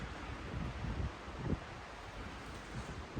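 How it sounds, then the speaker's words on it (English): Gusts of wind rumble against the microphone in uneven bursts outdoors, fairly faint, with no talking. "It's getting windy here."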